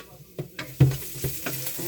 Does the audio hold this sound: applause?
no